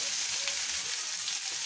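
Onion fries in a pan with oil, bay leaf, crushed garlic and ginger for an egg masala, a soft steady sizzle throughout, brief and uninterrupted by talk.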